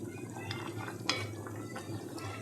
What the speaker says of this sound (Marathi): हे पा आपल्या भाजीला उकळी आलेली आहे आता.